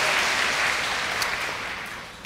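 Audience applause at a Vietnamese evangelical church service, a dense steady wash of many hands clapping that holds strong throughout and tapers slightly toward the end.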